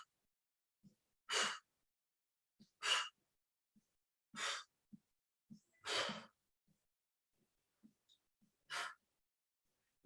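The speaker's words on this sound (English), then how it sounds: "You probably hear me breathing out as I'm taking the weight out." A person exhaling forcefully during a weight exercise, five or six sharp breaths out at irregular intervals a second or two apart, close and clear in a quiet room, with faint soft inhales between.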